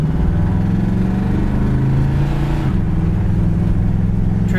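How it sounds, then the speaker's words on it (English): An older car with power steering and power brakes accelerates under load, its engine drone steady and close, with the pitch dropping briefly at a gear change partway through before building again. "Transmission shifts good."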